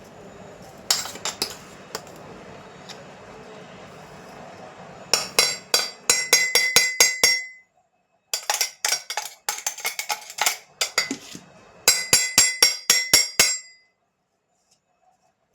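Ugg is spooned onto a metal plate in repeated bursts of sharp clinks and scrapes, close and bright, separated by short silences, with no talking.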